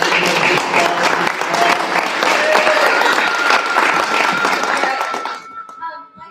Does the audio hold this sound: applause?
yes